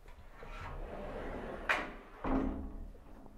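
A sliding bedroom door rolls along its track with a low rumble, then a sharp knock and a second thud as it reaches the end, heard alone in a quiet room.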